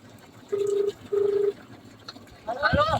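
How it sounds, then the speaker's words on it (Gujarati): A telephone call is being placed: two steady, evenly spaced electronic tones sound back to back over faint background noise, then a voice begins. "લગાવ્યો ફોન"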